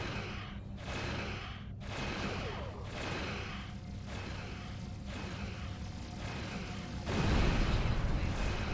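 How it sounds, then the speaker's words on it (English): An explosion in the space game Star Trek Online, a heavy low-frequency blast rising near the end over continuous dense weapon and engine noise, loud and full. "big explosion"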